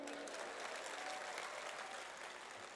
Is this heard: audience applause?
yes